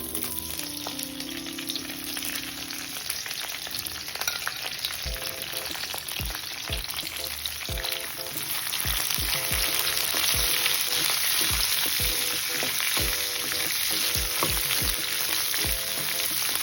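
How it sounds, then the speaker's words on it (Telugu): About 300 grams of chopped okra fries in oil in a kadai with a constant crackling sizzle. Sharp knocks and clatters of stirring keep punctuating it, growing a little louder partway through. "ఇప్పుడు ఇదే కడాయిలో ఇంకొంచెం ఆయిల్ వేసి తరిగిన 300 గ్రాముల బెండకాయల్ని వేసేసుకోవాలి."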